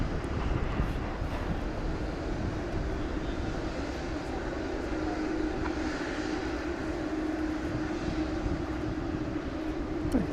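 An airplane takes off at night at DFW Airport, a steady, loud jet engine roar with a low rumble that holds throughout, with no speech over it.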